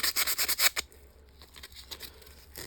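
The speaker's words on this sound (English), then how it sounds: "Now the 80 grit sandpaper" Steel flywheel being roughened by hand with 80 grit sandpaper: a quick burst of six close, rhythmic rasping strokes, then quieter scattered scuffs and one more stroke at the end.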